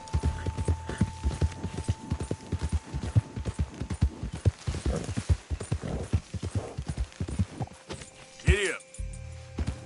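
Horse hooves clop in a quick, regular gallop rhythm in a PS4 video game, moderately loud and steady, with a voice calling out near the end.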